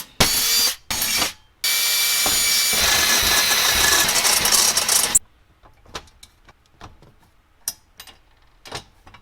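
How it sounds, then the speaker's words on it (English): A power drill bores holes for rivet nuts during a Radium fuel cell install, running loud and steady for several seconds after a couple of short bursts, then stopping into quiet scattered clicks and handling taps. "So I got to trace that out and start drilling and putting riv nuts in."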